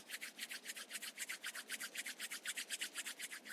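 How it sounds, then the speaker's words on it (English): Palms rubbed briskly together during a seated yoga class, making a quick, steady swishing friction of about twenty even strokes, close and fairly quiet with nothing else heard. "Rub your palms together."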